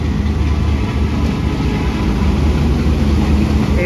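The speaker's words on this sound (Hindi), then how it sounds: "46 town Pakistan express Wazirabad junction पर पहुंच रही है।" Pakistan Express train pulling into Wazirabad Junction, a loud, continuous low rumble and rolling drone of the train, close by, with a faint rising whine at the very end.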